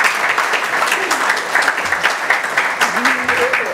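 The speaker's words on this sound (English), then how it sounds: "So a round of applause for them too." Conference audience applauding sponsors, a steady round of many hands clapping in a hall, with a few voices underneath.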